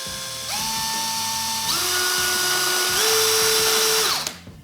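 A variable-speed drill/driver whines as its trigger is pulled further in, stepping up through three rising speeds before spinning down at the end.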